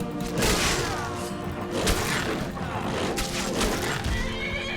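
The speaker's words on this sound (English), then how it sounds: "Oh, God, a horse?" Horse in the video game Skyrim neighing and whinnying several times amid game thuds and clip-clop, fairly loud, with a player speaking over it at moments.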